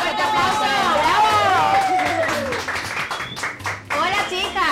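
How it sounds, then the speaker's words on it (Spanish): A studio audience welcomes guests onto a television show with a burst of clapping, mixed with loud excited cheering and chatter from many voices. "Un aplauso."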